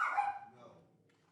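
A dog gives a single short bark that fades quickly into a quiet background, close and fairly clear.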